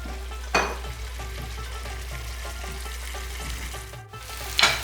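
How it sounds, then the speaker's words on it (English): Chicken sizzling and frying in a pan on a medium-high flame while cooking chicken bhuna, a steady crackling hiss with a couple of louder spits and stirs. "Chicken has been frying for the last 10 minutes."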